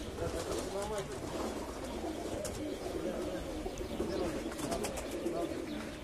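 A flock of pigeons is heard in Larisa, soft cooing and fluttering over a dense, constant outdoor murmur, with people talking in the background.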